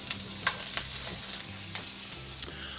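Sweet onion and peppers sizzle steadily in a hot pan for a mango habanero sauce, a close, continuous frying hiss broken by a few soft stirring scrapes.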